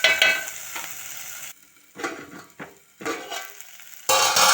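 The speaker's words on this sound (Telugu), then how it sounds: "అల్లం పేస్ట్గా ఫ్రై అయిపోయింది మంచిగా" Ginger paste frying in a pan gives bursts of loud sizzling, broken by brief quiet gaps where stirring and stove noise drop away, then the hiss surging back strongly near the end.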